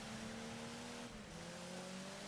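BMW race car engine in DiRT 5, a continuous buzzing drone that shifts pitch midway as the car changes gear, steady and without talk.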